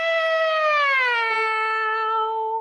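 A singer's voice imitates a cat's meow during a vocal warm-up, one sustained sliding meow that starts high and glides downward, clear and close.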